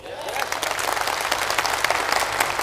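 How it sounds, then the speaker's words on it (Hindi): Audience applause fills a direct selling motivational talk, a dense steady clapping from a large indoor crowd that holds at an even level throughout, with no speech over it. "मेरे दोस्त, इस काम के लिए ताली बजना चाहिए कि नहीं?"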